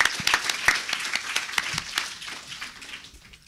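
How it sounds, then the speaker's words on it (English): A conference audience applauds a data journalism panel, a dense burst of many hands clapping that slowly thins and fades toward the end. "Please give everyone a round of applause"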